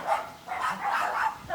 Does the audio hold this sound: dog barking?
yes